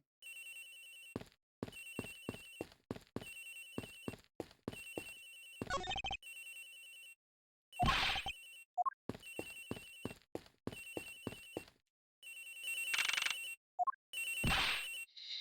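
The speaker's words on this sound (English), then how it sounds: "Agent Hicks' phone, it's ringing from somewhere, sir." A phone rings in the Ace Attorney Investigations video game, a repeated electronic ringtone in short regular bursts, clear and fairly quiet, broken by brief game sound effects.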